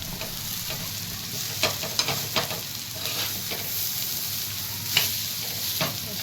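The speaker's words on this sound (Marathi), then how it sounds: "कांदा असा छान असा परतलेला आहे, तर मी तुकडे टाकून घ्यायचे." Broken pieces of jowar bhakri tossed and stirred in a pan with sautéed onion, giving a steady close sizzle broken by scraping strokes and soft clatter, with no talking.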